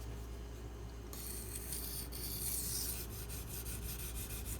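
A Benchmade Mini Crooked River knife blade is drawn across a coarse sharpening stone, a series of close, rhythmic gritty rasping strokes, quiet and with no talk.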